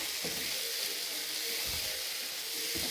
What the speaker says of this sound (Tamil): இப்போ நம்ம கட் பண்ணி வச்சுருக்க செவரட்டி எடுத்து போட்டு இதையும் போட்டு நல்லா கலக்கிக்கலாம்